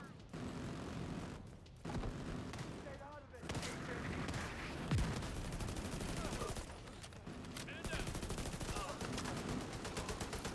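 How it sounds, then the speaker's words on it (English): Heavy automatic autocannon fire in The Division 2 thuds in sustained bursts amid distant explosions and combat noise, moderately loud, with short gaps between volleys. "The autocannon seems to be firing blind."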